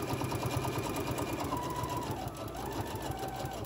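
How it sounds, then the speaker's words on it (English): A sewing machine stitches up the side of a fabric face mask with a fast, steady whir and close rhythmic needle chatter throughout the short stretch. "I'm gonna go ahead and start sewing up this side"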